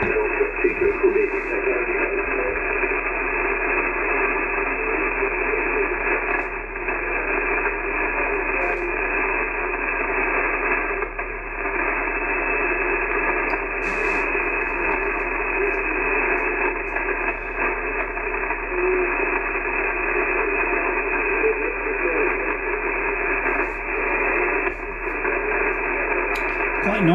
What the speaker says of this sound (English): All that static in the background, that's all from Australia.